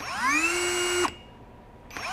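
A NEIKO 20V brushless 3/8-inch impact wrench, model 10880A, spins up with a rising whine that climbs over about a second, runs briefly at top speed, stops abruptly on its electronic brake, then starts again. Loud and close, with no talking.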